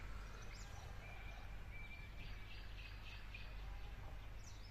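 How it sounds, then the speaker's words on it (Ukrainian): Faint birds chirping and calling outdoors over a steady low rumble, scattered short tweets drifting in and out at a distance. "Якщо чутно, як співають птахи"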